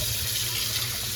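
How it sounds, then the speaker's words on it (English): Cold tap water runs steadily over salted codfish in a kitchen sink, a constant, moderately quiet rush with no talking. "Make sure you're rinsing with cold water."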